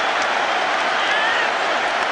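A packed rugby stadium crowd at a France versus New Zealand match in 1999 roars and applauds a French try, a dense, steady wash of clapping and cheering throughout.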